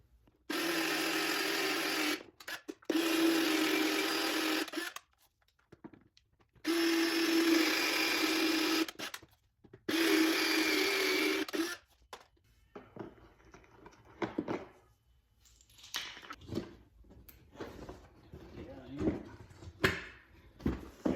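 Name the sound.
drilling with a power drill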